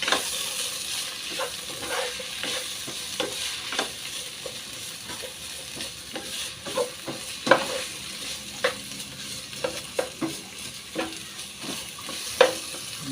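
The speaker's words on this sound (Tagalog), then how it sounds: "Haluin lang natin." Ingredients stirred in a sizzling pan before salmon heads go in for sinigang, a soft continuous fry punctuated by irregular spoon knocks and scrapes, close and moderately quiet, with no speech.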